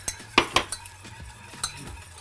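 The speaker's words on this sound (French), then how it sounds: "on verse notre jus de passion et on fouette" A whisk works passion fruit juice into a boiling mixture in a pot. Sharp metallic clinks strike the sides irregularly over a faint bubbling simmer, close up and without talk.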